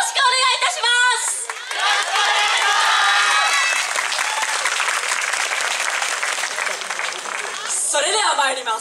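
Audience applause and clapping at a student yosakoi-soran dance performance on an outdoor festival main stage, a dense sustained roar of many hands with a few raised voices, swelling at the start and end.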